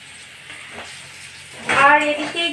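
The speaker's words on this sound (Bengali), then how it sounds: "আর এদিকে ঘি কাঁকরোলটা ভাজা হয়েও এসেছে" Pointed gourd (kakrol) frying in ghee in a pan, a steady soft sizzle that swells into louder, crackling bubbling near the end.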